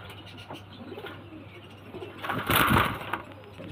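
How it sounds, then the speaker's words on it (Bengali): Pigeons kept at a home loft coo softly and close by, a low murmuring call that rises into a louder burst with a brief flutter near the end. "খুব সুন্দর পায়রা।"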